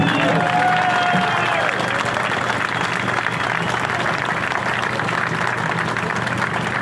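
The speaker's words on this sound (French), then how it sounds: "Je vous donne des applaudissements parce qu'ils le méritent" Steady, loud audience applause fills a meeting hall at a French-speaking gathering, dense and continuous, with a faint tone briefly audible early on.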